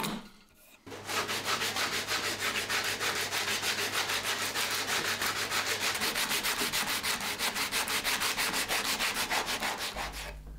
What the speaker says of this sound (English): to finish it off, I do have to do a little bit of hand sanding